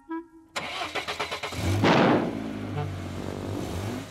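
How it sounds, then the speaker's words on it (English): A cartoon garage truck engine cranks with a rapid chugging stutter, catches with a loud burst, then settles into a strong revving rumble, close and alone. "Let's have a nice loud rev."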